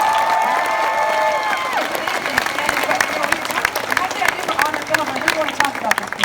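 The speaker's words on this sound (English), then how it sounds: "Let's just give a mad clap for Blizzard that we did this character." A conference audience claps and cheers loudly for Blizzard at an Overwatch panel, a dense, steady wash of applause with scattered shouts lasting throughout, while a voice speaks over it early on.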